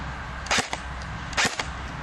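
Two sharp single shots from a CYMA Thompson airsoft gun, a Chicago Typewriter replica, fired from the chest about a second apart, each a crisp snap with a brief echo over a quiet room hiss.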